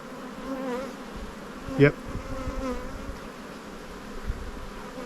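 Honeybees hum steadily around a large open spring colony being inspected, a soft, continuous buzz with a brief louder pass and a short word spoken close by.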